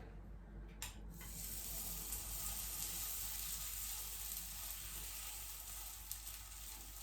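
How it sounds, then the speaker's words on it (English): Sweetcorn and pea fritter mixture frying in a pan, a steady, fairly soft sizzle that carries on throughout after a couple of brief clatters near the start. "Okay, so we have the mixture here, and I'm just gonna fry it."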